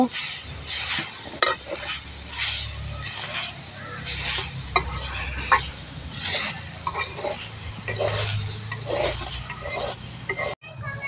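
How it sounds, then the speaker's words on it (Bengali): Grated coconut fried in a hot wok, with a close sizzle and repeated spatula scrapes and metallic clinks against the pan, steady throughout before a brief drop near the end. "প্রথমে আমি নারকেলটা ভালো করে ভেজে নেব।"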